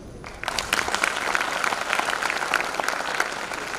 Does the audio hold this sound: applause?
yes